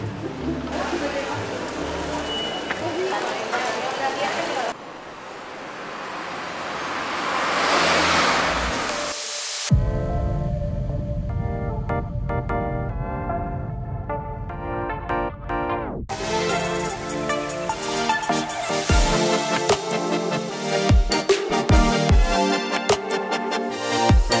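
A car climbs a very narrow street, its engine droning and revving steadily up close, with voices and other layered sound over the drive.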